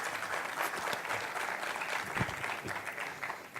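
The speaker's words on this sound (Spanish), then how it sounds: "así que le damos un fuerte aplauso" Dense, sustained clapping from a seminar audience at a biogas conference, welcoming the speaker Jorge Hilbert, steady and fairly loud with no voices over it.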